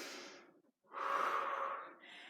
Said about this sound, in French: Allez, on inspire en montant